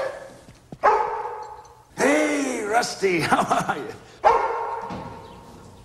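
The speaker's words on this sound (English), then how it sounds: "Dog has taste. Also has a healthy bark." A dog barks several times in a house, loud and close, with a person speaking between and around the barks.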